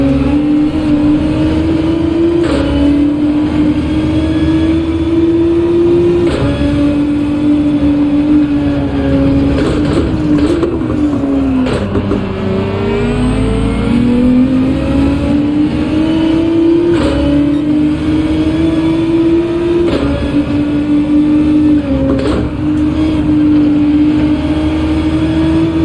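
Race car engines in Gran Turismo 7, a steady loud drone held near constant pitch with brief dips for gear changes and braking, one car following closely in another's wake, no voices.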